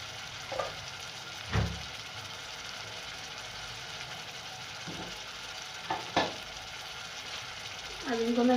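Tomatoes and spices fry in a pan with a constant sizzle, broken by a few scraping strokes of a spoon stirring the mixture and a brief clatter near the end.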